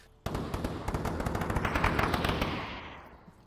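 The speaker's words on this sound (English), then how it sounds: "He puts flashbangs out." Rapid automatic gunfire from the VR shooter Onward during a competitive esports match, a dense burst of sharp cracking shots that starts abruptly, swells and slowly fades into echoing reverberation.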